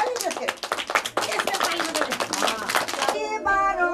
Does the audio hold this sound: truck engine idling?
no